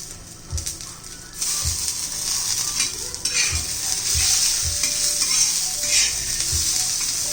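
Coriander and roasted chilies for Kolhapuri thecha sizzle steadily in hot oil, with a bright continuous hiss and a few low knocks of stirring against the pan, close and fairly loud throughout.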